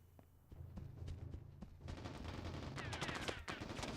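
Enemy gunfire rattles in the Mercenaries: Playground of Destruction video game, a few sparse shots at first giving way to sustained, overlapping automatic bursts that build and stay dense, moderately loud and without speech.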